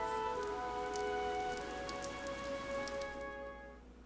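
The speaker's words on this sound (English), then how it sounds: "This rain threatens a coming storm." Rain in the Fire Emblem: Three Houses video game hisses steadily under sustained musical tones, then fades toward the end.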